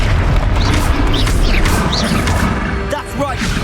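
Hogwarts Legacy spell combat with the Confringo fire spell, a loud continuous booming blast and crackle filling the whole moment, whooshing spell effects and a voice over the top.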